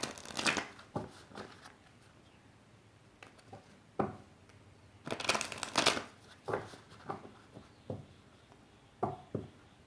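Angel oracle cards are shuffled in quick bursts of papery riffling and flicking, separated by quiet pauses and soft taps, close up with no talk.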